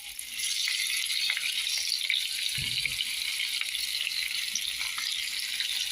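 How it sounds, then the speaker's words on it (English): Vegetables sauté in hot extra virgin olive oil in a pot, a steady broadband sizzle that holds close and even throughout, with a brief low knock from the pan partway through. "I'm just going to let that saute for about 2 minutes until golden brown."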